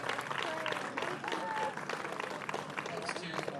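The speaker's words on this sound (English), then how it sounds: "About a round of applause for our pro-class podium" A crowd at a Watkins Glen motor racing podium ceremony applauds loudly and continuously for a few seconds, with voices talking over the clapping.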